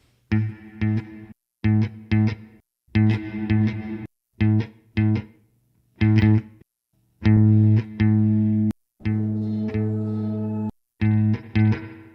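Electric guitar through a Line 6 Helix Stadium XL plate reverb plays short chopped chords and notes in bursts separated by silences, drenched in a bright, lingering reverb.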